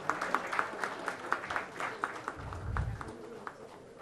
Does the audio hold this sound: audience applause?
yes